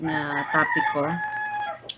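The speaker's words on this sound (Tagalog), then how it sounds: "pasensya sa manok" A chicken crows and clucks close by while a person talks over it.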